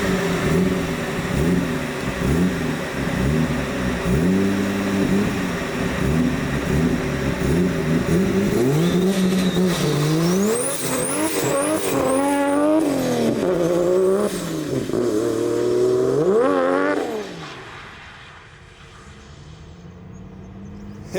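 Group 1 drift cars run on a wet Midwest grassroots track, engines revving hard through rising and falling gear pitches, with tire squeal in the middle stretch before the noise drops away near the end.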